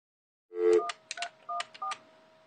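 A series of about six telephone keypad tones beeps in quick, uneven succession, each tone short and clear against near silence.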